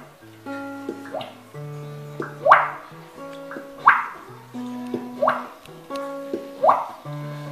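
A performer's voice mimics dripping water in a comic, rhythmic way, with about five bright, rising plip sounds spaced evenly between sung, tonal vocal phrases, close and clear.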